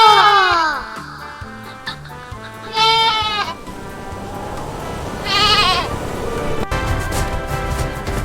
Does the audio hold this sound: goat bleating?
yes